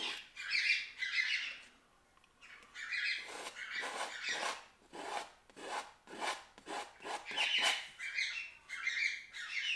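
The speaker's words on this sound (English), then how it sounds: "Well, I guess the birds want to be heard again tonight." Birds squawking and chirping outdoors in bursts, harsh raspy calls repeating in irregular clusters with brief pauses between, fairly faint and distant, with no one talking.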